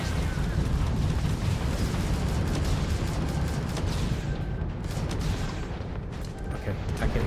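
Spaceship combat in Starfield, with a continuous loud roar of weapon fire and rumbling explosions blending into a dense, sustained barrage.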